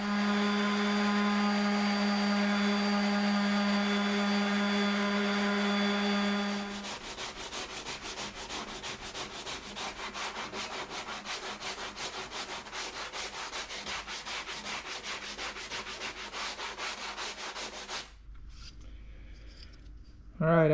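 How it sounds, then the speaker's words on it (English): Hand sanding on the body of a 1969 Pontiac Catalina Wagon, a fast rhythmic rasp of strokes that runs for a long stretch after a tonal hum stops, then breaks off near the end. "let's go ahead and sand this thing down"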